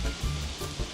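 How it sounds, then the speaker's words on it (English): Soy sauce hits sizzling stir fry noodles in a hot pan, raising a loud, rushing hiss with small surging pulses over one brief second, without talk. "Now I'm going to whack in the soy sauce."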